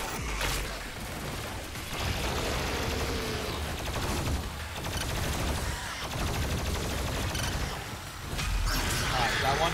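Micro missiles firing in DOOM Eternal on Nightmare difficulty produce rapid rattling bursts of shots and crashing impacts in repeated waves, loud and close, with a voice talking over parts.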